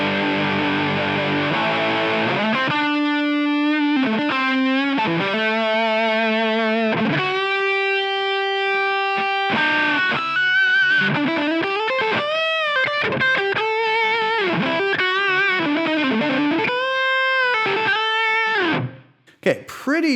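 Electric guitar played through a Line 6 Helix modeling a Bogner Shiva amp with every control cranked to ten, giving heavily distorted sustained notes and bends in a continuous phrase that stops abruptly near the end.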